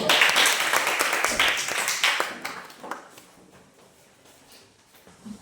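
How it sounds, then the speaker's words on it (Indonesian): Classroom applause for a student discussion group, a brisk burst of hand clapping that thins out and fades after about three seconds, leaving near silence. "Silakan kelompok 3 berikan tepuk tangan lagi"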